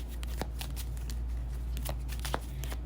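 Tarot cards being shuffled, a series of quick crisp riffling and flicking bursts at close range over a low steady background hum.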